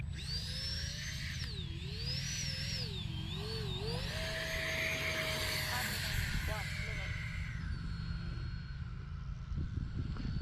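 An E-flite Habu RC jet flies with a wavering, high-pitched whine that rises and dips as it maneuvers overhead, then fades under steady wind and background noise, with people talking nearby.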